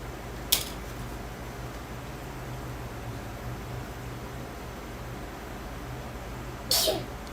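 Two sharp sneezes burst out, one near the start and a louder one near the end, over a steady background hum.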